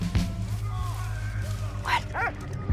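A dog in the video game Valiant Hearts: The Great War gives a couple of short yipping barks late in the clip, over a low game soundscape, with a voice talking.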